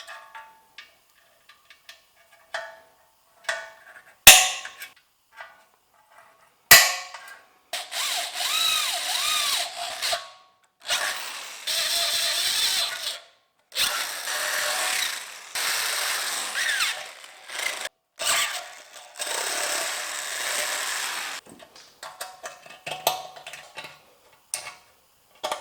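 A power drill bores holes into the fuel tank of a 1964 Harley-Davidson Ironhead Sportster XLCH, running in several sustained, close whirring bursts separated by short pauses, with scattered clicks and handling knocks before and after.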